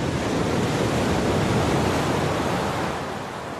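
Sea waves wash onto the shore at Lanzarote, a steady, loud, broadband roar of surf that holds constant and eases slightly toward the end, with no voices.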